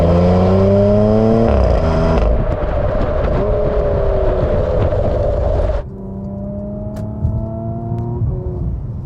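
A Porsche Macan S engine revs hard through rising and falling sweeps, then lifts off into a brief run of exhaust pops and crackles before settling to a lower drone; loud and close, no talking.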